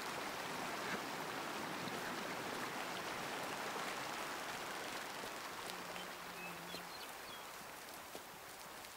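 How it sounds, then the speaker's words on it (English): Steady broadband rush of running water in a hunting video game, like a stream flowing continuously, even and unbroken throughout with faint incidental ticks on top. "maybe the running water sound is probably a little bit too loud."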